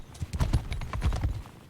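Horse hooves gallop in the video game Mount and Blade Bannerlord, a rapid, dense rhythm of thudding clip-clops close and loud, with no talk over them.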